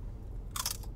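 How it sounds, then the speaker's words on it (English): A single crisp bite into a fresh, crunchy celery stick, close and clear, with a short sharp crunch lasting a split second amid quiet background. "Celery sticks are fresh."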